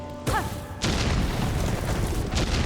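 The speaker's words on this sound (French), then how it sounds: "Encore ça explose." A loud boom from an explosion in the video game Hollow Knight: Silksong, a sharp blast followed by a sustained rumbling roar that fills the rest of the moment.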